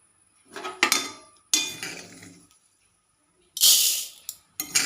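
A metal spoon scrapes and knocks against a metal pan while scooping out roasted rice, a few distinct metallic clanks and scrapes separated by short pauses, close and fairly loud.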